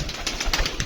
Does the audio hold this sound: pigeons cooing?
yes